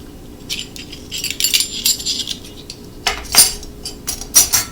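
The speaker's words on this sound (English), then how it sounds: "I'm going to continue to stir this" A spoon stirring potato salad in a bowl, close scraping and clinking strokes in uneven bursts, with no talking.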